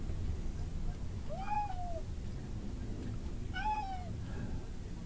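A house cat gives two separate, drawn-out meows a couple of seconds apart, clear and fairly near over a steady indoor background hum.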